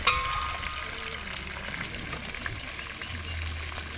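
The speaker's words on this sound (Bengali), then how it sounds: "এবার এর মধ্যে দিয়ে দেবো টমেটো কুচি" Chopped tomato frying with meat in a pan over a clay stove makes a continuous moderate sizzle after a brief clink at the start.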